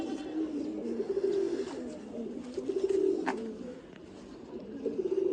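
Pigeons coo in low, repeated throaty phrases, close by and fairly loud, with brief background noises between the calls.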